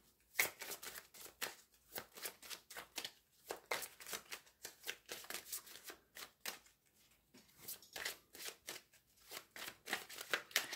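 Tarot cards being cut and shuffled by hand, a fast run of crisp riffling bursts in uneven clusters with a few brief pauses, close and clear with no talking.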